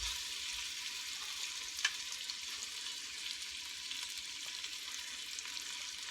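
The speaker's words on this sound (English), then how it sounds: "what I'm going to do is put the onion, only the onion, in the grease and the butter" Onion sizzling in melted butter and bacon grease in a pan, a soft, steady hiss of frying that runs evenly throughout, with a faint clink partway through and no talking.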